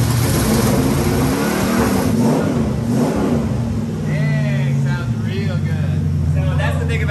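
A carbureted car engine, given starting fluid, catches and revs loudly and roughly, then drops into a lower, uneven idle, with people talking over it.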